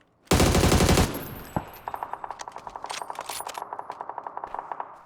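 Gunfire in PUBG: a loud sustained automatic burst up close, a single sharp shot, then a long rapid string of evenly spaced shots fading slightly, with no talking.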